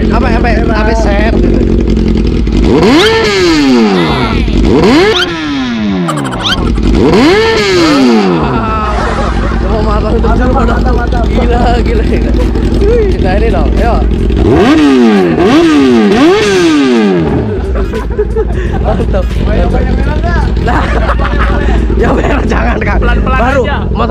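A new Kawasaki ZX-14 or Yamaha R6 sport motorcycle engine revs up sharply several times, rising and falling in pitch over a steady idling rumble, loud and close.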